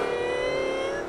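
A supercharged car engine in the Forza racing game holds a steady high rev with a strong whine, loud and close, alone with no talk throughout.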